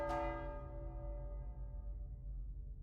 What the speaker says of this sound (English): Did I ring the bell wrong?